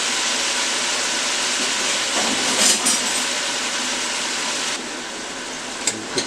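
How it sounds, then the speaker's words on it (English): Ground meat stirred in a hot pan for a cheesy loose meat sandwich, giving a steady, loud hiss of sizzling with a few soft scrapes of the spoon, close up and without talking. "we're going to just stir that up"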